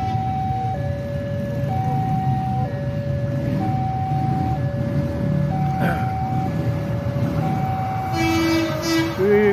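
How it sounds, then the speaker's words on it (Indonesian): A feeder train for the KCJB high-speed rail line passes beneath the Ciroyom flyover in Bandung, with a steady rumble of wheels, repeated sustained horn tones and a rising, screeching rail squeal near the end. "kereta feeder lagi nih. Feeder kereta cepat lagi."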